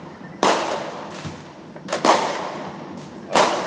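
Several dull, distant bangs go off at irregular intervals, muffled thumps with a soft crackling tail, heard alone in a quiet outdoor space.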